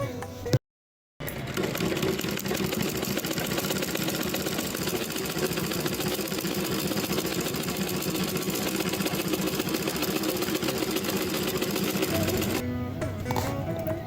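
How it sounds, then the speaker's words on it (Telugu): A sewing machine runs steadily and close up, stitching folded handles for a bag made from an empty rice sack, its fast mechanical chatter continuous apart from a brief pause near the start and slowing near the end. "మడత పెట్టి కుట్టాలి"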